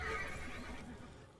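A horse whinnies when summoned in Warframe, a brief neigh with a faint clip-clop underneath, fairly quiet and fading out over about a second.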